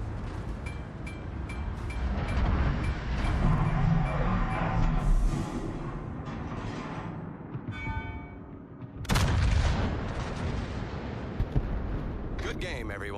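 The Yamato battleship's main guns fire in World of Warships, deep booming salvos with long rumbling tails, one loud blast standing out near the end, over a steady low hum and faint voices.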